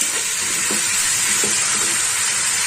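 Chopped tomato frying in a pan for Bengali egg curry, a steady dense sizzle and hiss with faint stirring scrapes, close and continuous without talk.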